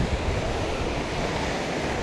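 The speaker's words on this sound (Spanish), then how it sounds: "Ahí estamos llegando a la cascada." Steady, dense roar of the Arroyo de las Calaveras waterfall near Tafí del Valle, heard on a trekking trail. The rush of water is continuous and loud, with no voices.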